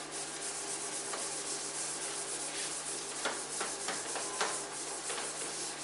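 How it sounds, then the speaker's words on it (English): Steady scrubbing and rubbing of a classroom board being wiped clean for a geometry lesson, a continuous dry swishing with a few sharper strokes near the end. "I will simply rub the board for the diagram."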